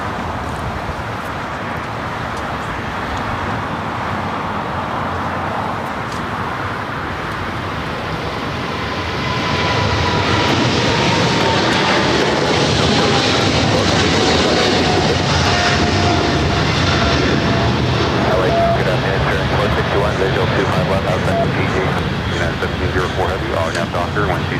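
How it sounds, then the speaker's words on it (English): Boeing 777 freighter departing runway 25 left at LAX, its engine rumble swelling sharply midway into a loud, sustained roar with a descending whine, while a voice talks over it. "There we do have that 777 freighter heading down 25 to the left"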